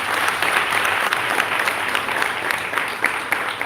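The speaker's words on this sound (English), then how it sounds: "Please give them a round of applause." Steady applause from an audience honouring nursing graduates at a graduation ceremony in Mbarara, dense clapping throughout at an even level with no pause.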